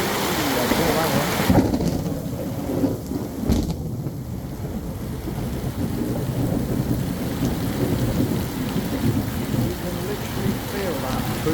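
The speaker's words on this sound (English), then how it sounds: "And the storm carrying on. It won't let up." A heavy thunderstorm in the rural Philippines, steady loud rain drumming on surfaces with a sharp thunderclap early and another crack a couple of seconds later, the downpour continuing unbroken throughout.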